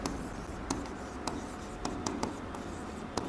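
A pen scratches across paper in short, quiet strokes, with soft irregular taps and scrapes over a faint background hum.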